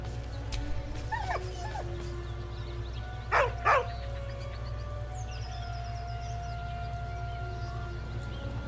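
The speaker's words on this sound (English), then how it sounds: "With a deep, heartbroken whine, the dog bows his head." A dog in Baldur's Gate 3 lets out a few thin, high whines and whimpers, followed by two louder yips in the middle, all over a low steady ambient hum.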